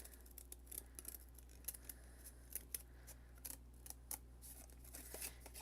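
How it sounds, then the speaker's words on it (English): Sharp scissors snip through card paper while an easel card is being made, giving a run of small crisp clicks and cuts at an uneven pace, close but quiet over a low steady hum. "I'm going to take my sharp scissors. I'm going to go right underneath."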